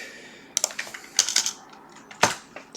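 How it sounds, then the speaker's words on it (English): Typing on a computer keyboard while entering a formula in an Excel spreadsheet: a few close, crisp key clicks in short irregular bursts, with quiet pauses between them. "If I can even type right."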